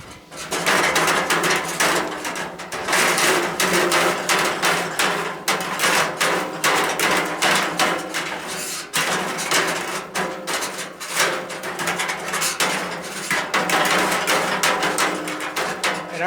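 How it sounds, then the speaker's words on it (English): A chimney brush smaller than the flue pipe of a wood stove rattles and clanks inside the metal pipe in rapid, irregular bursts of scraping and knocking, loud and continuous throughout. "chimney brush is smaller than our flue pipe, so and that's why I'm rattling around as much."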